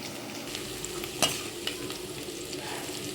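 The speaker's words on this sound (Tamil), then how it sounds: "வெங்காயம் நல்லா வதங்கிடுச்சு." Onions sautéing in a pan for rice rava upma, a steady close sizzle with a single sharp scrape of a spatula partway through, no talk.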